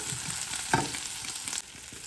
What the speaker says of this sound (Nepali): प्याजलाई एकछिन राखेर भुटौँ।